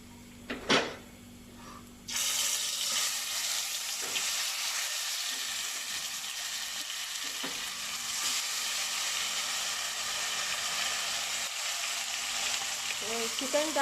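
Marinated chicken hits a hot pan and bursts into loud, continuous frying and sizzling after a couple of opening clanks, with occasional stirring scrapes over the steady hiss.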